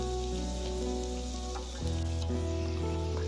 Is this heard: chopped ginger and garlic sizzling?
yes